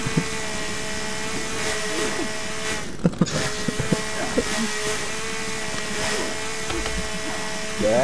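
A chainsaw in The Forest video game runs with a steady buzzing drone and several sharp cutting bursts, continuous and fairly loud throughout.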